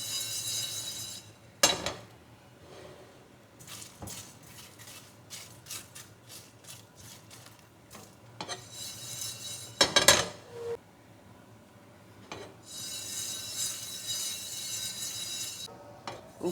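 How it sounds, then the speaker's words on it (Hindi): Whole spices being dry roasted in a pan for chicken dum biryani, with a spoon scraping and clinking against the metal in scattered bursts, fairly quiet and close, with no talking. "बस इसमें से खुशबू आने लग जाए उस वक्त तक आपने इसको ड्राई रोस्ट करना है।"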